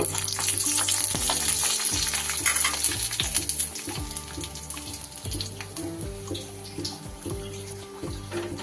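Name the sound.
frying bori (lentil dumplings) in a pan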